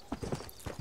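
Horse hooves clip-clop at a steady riding pace in Red Dead Redemption on PS3, a run of close, rhythmic hoofbeats with no talk over them.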